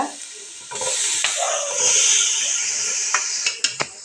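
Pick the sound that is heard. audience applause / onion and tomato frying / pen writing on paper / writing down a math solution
onion and tomato frying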